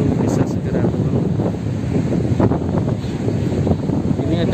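Strong wind and high surf batter a beach lined with guesthouses at Batakan Baru during extreme weather at night, a loud, constant roar of gusts hitting the microphone over crashing waves, with rumbling low buffets throughout.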